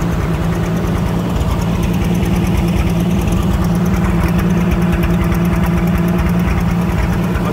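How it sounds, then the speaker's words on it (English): An Allis Chalmers WD-45 tractor engine with a missing valve runs steadily at close range, a continuous loud mechanical rumble and chug throughout. "Running good, got a miss in the, one of the valves is missing, you can hear it."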